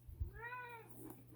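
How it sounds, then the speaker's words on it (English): A pet cat named Charlie gives a single clear, drawn-out meow indoors, close to the mic over a low steady hum, with no talking. "that's my cat, Charlie"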